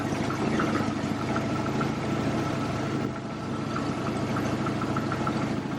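A Jeep engine idles steadily at close range, with faint regular ticking that may come from a noisy pulley, and no voices.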